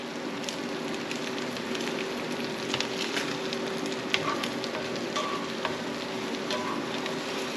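Eggs sizzling in a cast iron skillet over a little less than medium heat, a steady close crackling fry with scattered pops throughout, no talking.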